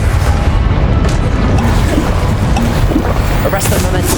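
A Confringo blasting spell detonates in Hogwarts Legacy, a loud booming explosion with a rushing, windy roar over dense continuous noise, alongside other spell effects.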